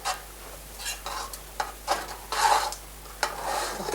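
Eggs being stirred in a hot pan for Basque piperade, scraping strokes landing in an irregular rhythm over a low, steady sizzle, close up and with no talk.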